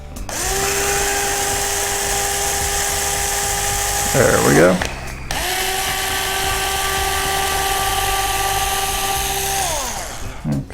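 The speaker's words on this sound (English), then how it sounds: "And I'm gonna go ahead and drill this one." An electric drill with a 1/16 inch bit bores into a 480mm quadcopter frame in two sustained high whining runs, the pitch dipping as the bit bites at each end, loud and close, with a brief spoken remark between them.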